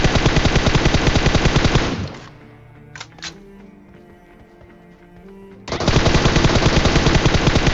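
Loud rapid automatic gunfire in a shooter video game, with two long sustained bursts bracketing a quieter stretch that holds a couple of dull thuds and faint game noise.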